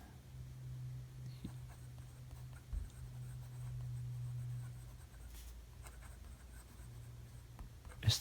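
Esterbrook Estie fountain pen with a steel medium nib writing on paper, a faint, soft scratching that carries on for several seconds under a low steady hum, with one or two small knocks.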